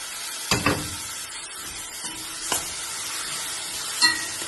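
Gram flour is stirred into hot oil for a green peas curry, a soft, steady sizzle close by with three brief scraping stirs of the spoon spaced a couple of seconds apart.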